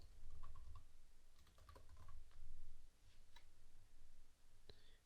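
Computer keyboard typing while plugin names are entered on a WordPress site, fairly quiet, with irregular runs of key clicks over low room hum and a sharper click near the end.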